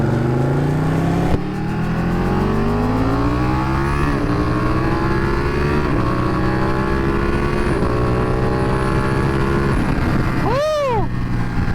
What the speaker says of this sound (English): I can't believe how loud this bike is with a stock exhaust